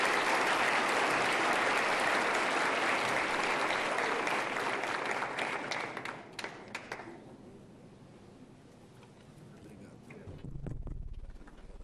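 At a solemn session marking Senac Distrito Federal's 52nd anniversary, a full hall gives a round of applause that rolls steadily for about seven seconds, then tapers off into quiet room sound and a voice.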